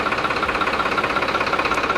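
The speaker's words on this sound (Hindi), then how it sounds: "ये बिल्कुल ट्रैक्टर पीटीओ से ऑपरेट हो रहा है" A HYPR baler machine driven by a tractor's PTO runs loud and close with a steady, rapid mechanical knocking and throbbing rhythm, with no voices.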